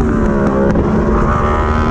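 A racing motorbike engine held at near full throttle in third gear out of a chicane into a long right-hand corner, a loud steady drone close by, unbroken for the whole short stretch.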